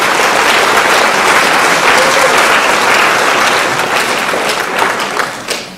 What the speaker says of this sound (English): Let's give all those people a round of applause.